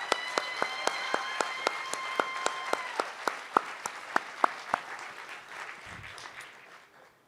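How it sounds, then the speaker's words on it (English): Audience applause for Mayor Mendenhall at a planning conference keynote in Salt Lake, a steady roomful of clapping with a few sharp, close individual claps standing out before it tapers off near the end. "Let's get one more round of applause for Mayor Mendenhall"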